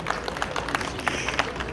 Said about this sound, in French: Oui, je trouve qu'on peut l'applaudir